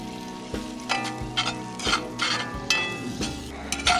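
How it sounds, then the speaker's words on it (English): All-purpose flour cooking and being stirred in a hot pan for biscuits and gravy, with a steady sizzle and repeated scraping strokes of the utensil close by, no talking. "Just gonna let that cook just a minute to burn some of that flour off of there."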